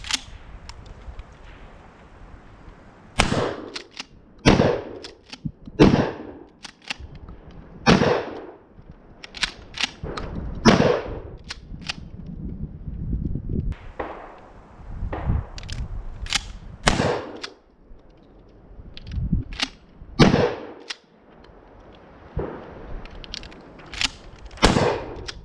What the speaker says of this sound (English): here we are with the Mossberg Shockwave doing some live fire